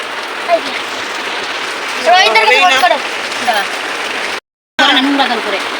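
Steady rain hisses throughout as a constant wash of noise, while people talk over it in the foreground.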